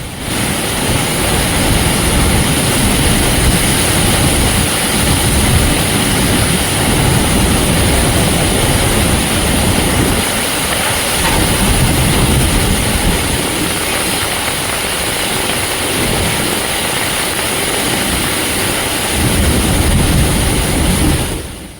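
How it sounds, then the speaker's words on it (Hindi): A freight train rolls through floodwater pooled on a railway track at a station, a loud continuous rumble and rushing wash that holds steady for over twenty seconds with no talk. "रेलवे ट्रैक पर जो पानी जमा है उससे गुजरती हुई मालगाड़ी"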